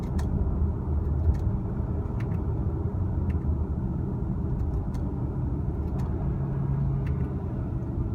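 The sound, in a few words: 2018 Audi Q5 2.0T driving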